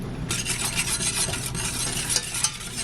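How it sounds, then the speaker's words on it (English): A whisk swirls cocoa powder and sugar into milk warming in a pot, a fast continuous rattling scrape against the pan with a couple of sharper taps, close and without talk. "So I'm just whisking that all together"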